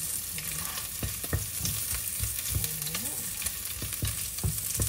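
Garlic sizzles steadily as it sautés in a hot pan, with repeated scraping and stirring knocks from a utensil cutting through the constant frying hiss.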